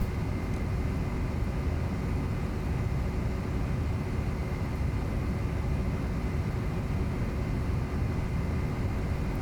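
A Boeing 737-800 climbing in Flight Simulator X: a steady, loud, broadband engine roar with a constant hum, unchanging throughout.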